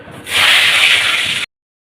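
Pointed gourds (potol) dropped into hot oil, bursting into a loud, close, steady sizzling hiss that holds for about a second before cutting off abruptly into silence.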